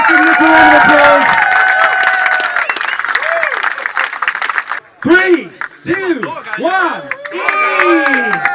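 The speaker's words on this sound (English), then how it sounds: "Ladies and gentlemen, please give Nick a round of applause." At a chilli eating competition in Eindhoven, a crowd claps and cheers while voices shout and whoop loudly over it, the applause thinning midway before excited calls rise again.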